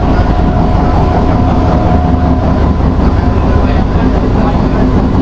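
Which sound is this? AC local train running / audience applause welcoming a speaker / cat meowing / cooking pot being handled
AC local train running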